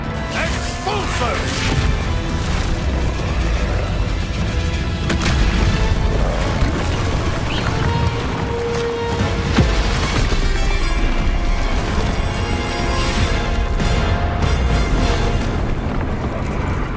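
A busy Hogwarts Legacy fight scene, where an Expulso spell explosion lands among repeated crashes, thuds and mechanical clatter that continue steadily throughout.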